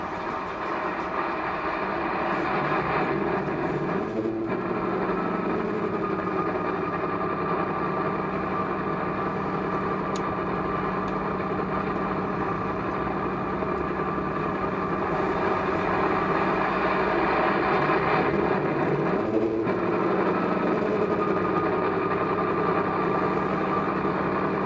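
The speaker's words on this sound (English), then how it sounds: "So that's the locomotive fired up." A model diesel locomotive on an outdoor layout near a depot, started and left idling: a steady, loud, droning engine hum with a continuous mechanical texture from start to finish.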